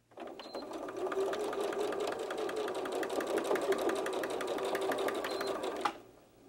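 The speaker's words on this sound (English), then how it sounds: "now I'm going to take this over to my sewing machine and I'm going to sew this end and this end" A sewing machine stitches the corners of a fabric coin purse with a quarter-inch seam, a steady, rapid mechanical rattle running for several seconds at close range and then stopping abruptly, with no speech.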